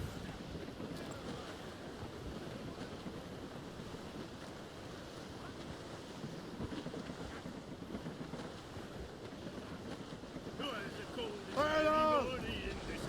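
Wind and waves of a squall at sea in Assassin's Creed Rogue, a steady rushing roar of surf and gusting wind around a sailing ship, swelling slightly near the end with a brief tonal cry.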